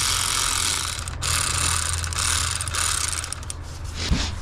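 A ratcheting wrench clicks steadily while tightening throttle body bolts on a 2003–2007 Infiniti G35 with a 75mm throttle body, the dense clicking continuing close and alone.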